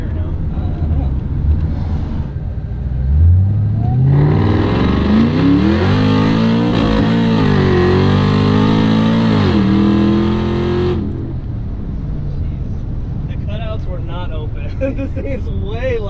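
A supercharged V8 in a Subaru Forester revs hard on a street pull, its engine note climbing loud and close for several seconds before easing off, with a background of lighter running noise before and after.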